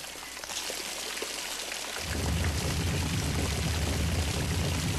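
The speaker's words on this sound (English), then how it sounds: "That's some powerful water." Powerful rushing water in the hidden-object game Dark Tales: The Fall of the House of Usher, a dense hiss of pouring water that swells louder and heavier after a couple of seconds and carries on steadily, with no talking.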